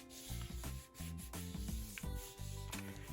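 Folded paper rubbed by hand over wet paint, a soft continuous scuffing that runs under steady background music for about three seconds.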